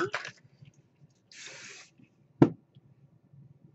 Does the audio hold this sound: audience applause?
no